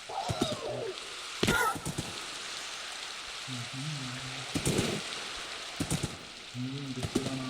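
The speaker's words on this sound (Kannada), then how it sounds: "ಮಳೆ ಬಂತು." Rain falls steadily in the Minecraft video game, a continuous soft hiss and patter that runs throughout, broken by a few short tonal game sounds.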